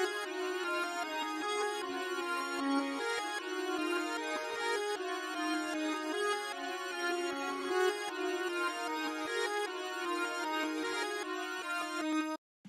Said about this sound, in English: Then I rendered it out and I reversed the sample and pitched it up 300